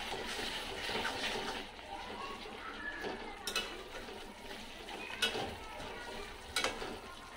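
Okra is stirred in an oiled pan while cooking with simple spices, giving a soft continuous scraping and sizzle with a few sharp clinks of the spoon against the metal.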